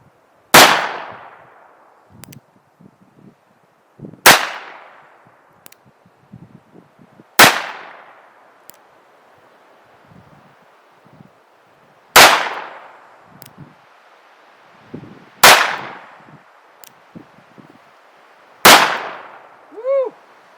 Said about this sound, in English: I'm gonna shoot this gun in single action and in double action to make sure that they're both working properly